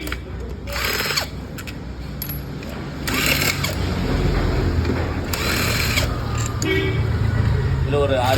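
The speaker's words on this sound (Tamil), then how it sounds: "என்ன இந்த கிளச்சு போல்ட்டுங்களை கழட்டி விடணும்." Clutch bolts being unscrewed on a two-wheeler motorcycle in a mechanic's workshop, with short whirring tool bursts and metallic clinks under steady talking.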